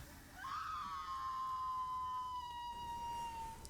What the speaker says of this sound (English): Scream for me, will you?